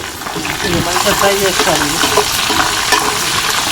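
Mustard seeds, cumin, green chilies and dried chilies hit hot oil with a loud, continuous sizzle and crackle, with a voice speaking over the frying.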